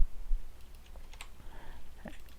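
Quick, light keystrokes on a computer keyboard patter in short, irregular bursts, fairly close and quiet, with no voice over them.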